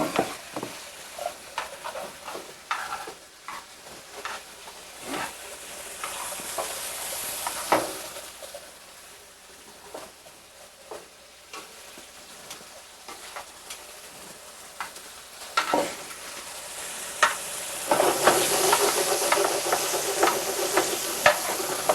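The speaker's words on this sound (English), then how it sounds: "Brian now is going to add his onions and his mushrooms" Onions and mushrooms go into a pan and fry with a steady hiss, punctuated by repeated scraping stirs, and the sizzle swells louder near the end; all close to the listener.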